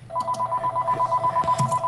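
A telephone ringing in the Minecraft video game, a steady electronic trill with rapid regular pulses, fairly loud and alone.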